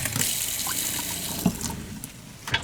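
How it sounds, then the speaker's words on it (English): Water runs into a small bartender sink in a homemade pop-up camper, a steady splashing stream with a few louder gurgles and drips, close up and with no talking. "Single regular little bartender sink."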